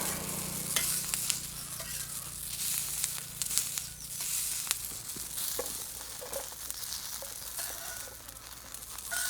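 Onions and spiced masala sizzle in a pan for a fiery coal-roasted chicken bhaji, with a constant frying hiss and frequent sharp scrapes of a stirring spoon close by.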